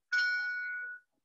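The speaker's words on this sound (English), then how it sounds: "the bell will ring 17 times" A single clear ding from a clock tower bell in Prague, struck once and ringing for about a second before stopping abruptly.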